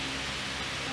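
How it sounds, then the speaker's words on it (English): A steady, even whoosh of a fan running close by, a constant broadband hum with no breaks or changes. "That noise is the fan because it's like 46 degrees today"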